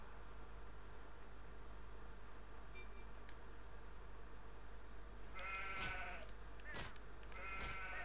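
Sheep bleating in the zombie video game Stubbs the Zombie, two or three loud, wavering cries in the second half over a constant hum of game ambience.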